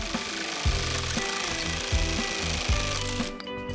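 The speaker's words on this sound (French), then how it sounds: "Il est assez difficile de couper avec une scie à main. La scie sauteuse sera plus pratique." A jigsaw buzzes steadily through bamboo stems, with repeated rhythmic strokes and short bursts as the blade cuts, close and fairly loud.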